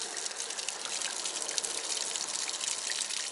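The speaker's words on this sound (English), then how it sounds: "there's the water coming out of the water heater" Water gushes steadily out of a travel trailer's water heater drain, a continuous broadband rush with no pauses, close and fairly loud throughout.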